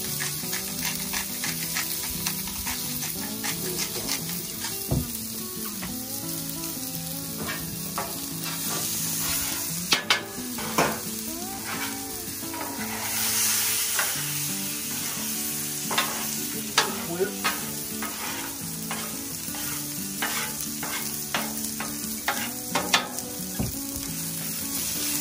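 Pork and cabbage coleslaw frying on a Blackstone griddle for keto egg roll in a bowl, a steady loud sizzle with frequent scraping and clattering of a spatula as the mix is stirred, close and continuous.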